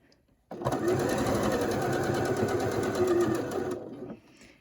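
Sewing machine stitching tight curves through quilt fabric for a colorblock craze block, a steady fast continuous whir running for about three and a half seconds, close and fairly loud, stopping near the end with no talk over it.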